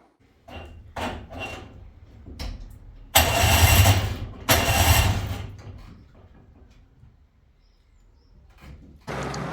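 A Rover 418 Tourer with a new battery, unrun for about a year, cranks in two loud, close bursts of several seconds each without firing, separated by quieter clicks and pauses, and a third attempt begins at the end.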